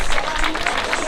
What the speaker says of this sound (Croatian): Ajmo jedan aplauz